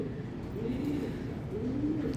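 Pigeons coo in a low, steady, continuous murmur through the whole stretch, close by and fairly loud, on an early morning among prized, high-grade fancy pigeons.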